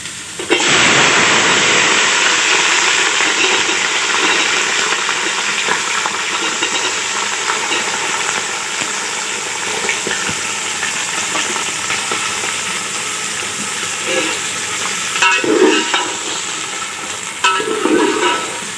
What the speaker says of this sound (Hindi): अब इसी में हम ये गाजर डाल देंगे।